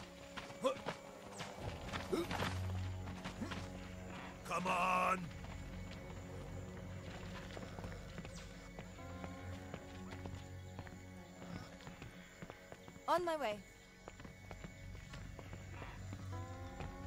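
Horse hooves in the video game Jagged Alliance 3: a rhythmic clip-clop of hooves, with occasional snorts and whinnies, under game sounds and voices.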